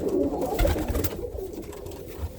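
A roller pigeon cock in a loft gives low, soft cooing up close, rolling murmurs that fade and swell amid faint background rustle.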